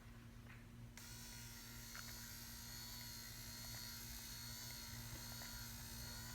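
A Jeep Grand Cherokee WK rear wiper motor runs on 12 volts on the bench, giving a steady, faint electric whir with a constant hum that continues unchanged throughout.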